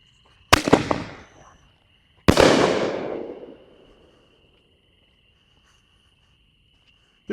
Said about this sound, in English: These are reasonably loud for ball shells too